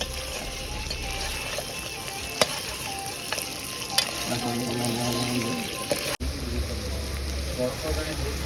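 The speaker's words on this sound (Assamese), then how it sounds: "তেলত মাটনটো বহাই দিছোঁ। মাটনটো এতিয়া পানীটো ধুনীয়াকৈ অলপ গুচাই দিওঁ ফ্ৰাই কৰি" Mutton frying in oil in a pan gives a steady, close sizzle throughout, with a few sharp clinks of stirring and a brief low bubbling burst near the middle.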